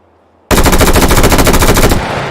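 A Tommy gun in H3VR fires one loud, rapid automatic burst lasting about a second and a half, sharp, close and alone after near silence.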